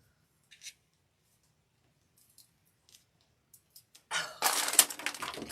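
Shears cut flower stems for a pink magnolia centerpiece in a wooden box, with a few faint snips and clicks and then a louder crunching cut close by at the end.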